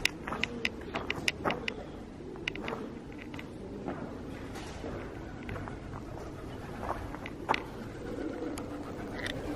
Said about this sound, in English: Many birds.